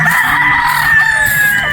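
An Escalon White straight-comb gamefowl rooster crows loudly and close up, one sustained, strained call filling the whole stretch at a game farm in Batangas.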